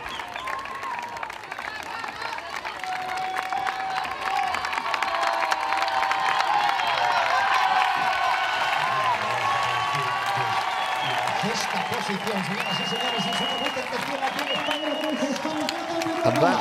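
Home crowd cheering and applauding at a men's T100 triathlon sprint finish in Spain, a steady, dense roar of claps and shouts that swells and holds throughout, with a commentator talking over it.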